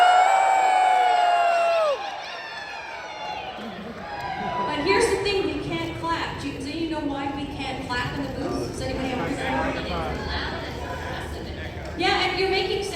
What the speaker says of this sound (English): at the count of 3, I want you guys to all cheer